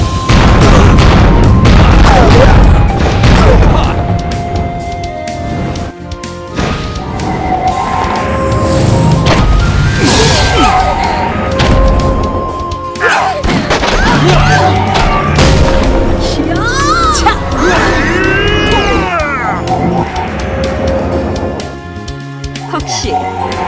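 Booming rocket-launch explosions in the online strategy game Atlantica, a dense, loud barrage of blasts and bursts layered with game music and sound effects, with voices talking over the action throughout.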